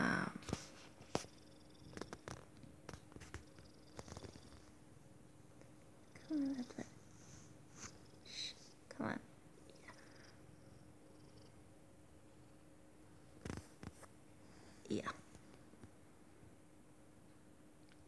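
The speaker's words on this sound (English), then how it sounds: "I purr really loudly." A cat purrs softly and continuously up close, the low rumble steady across the clip with a few small sniffs and rustles.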